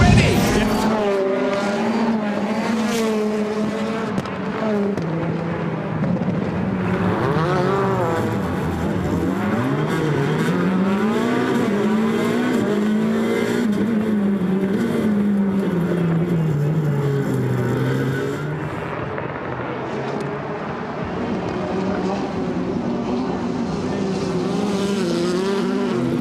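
Rallycross race cars, among them a Hyundai, roar around the circuit with engines revving and pitch sweeping up and down, loud and continuous, with a commentator's voice running underneath.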